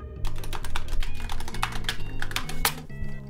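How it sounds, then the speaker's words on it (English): A computer keyboard clacks in quick, irregular bursts of close keystrokes while a name is typed into a Russian Mario visual novel game. "occasionally you can hear the clacking of a keyboard"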